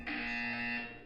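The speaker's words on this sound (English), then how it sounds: "When you hear the buzzer, look down at the floor." Test chamber buzzer in the video game Portal 2: a single loud, sustained electronic buzz holding steady for about a second before cutting off, with no voices over it.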